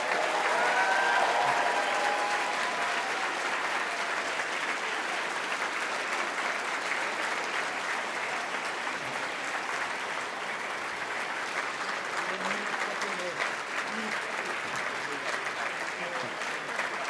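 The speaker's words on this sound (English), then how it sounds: "Round of applause for everyone, please." Sustained crowd applause at a convention closing ceremony, a long, even roar of many hands clapping that stays steady throughout, with faint voices underneath.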